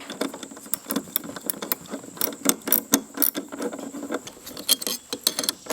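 A 7/16 socket ratchet tightens a bolt on a chainsaw mill. Its quick, close clicking comes in short irregular bursts with brief pauses.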